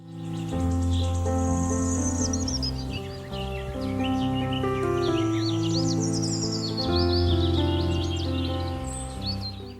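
House sparrows chirp and twitter in quick, high bursts over a sustained, melodic musical background that plays throughout.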